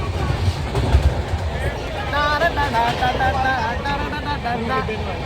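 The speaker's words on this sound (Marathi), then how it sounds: "आता आम्ही बोरिवलीवरून ट्रेन सोडली" A Paschim Express passenger train (12925), running from Mumbai toward Manali just after leaving Borivali, gives a steady close rumble with rhythmic wheel clatter, and muffled voices murmur throughout the carriage.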